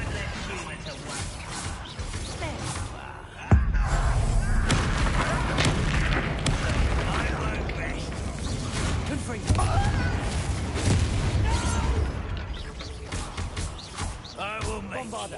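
Bombarda spell explosions in Hogwarts Legacy, heavy booming blasts that hit suddenly and roll into rumbling debris, with a second strong impact later, all under ongoing talk and combat noise.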